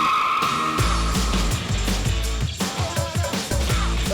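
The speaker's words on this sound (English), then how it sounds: "the Punto's quick off the start line" A Fiat Punto diesel car is driven quickly around a parking lot course, its engine revving loudly with tire squeal and skidding, up close and continuous, with no talk.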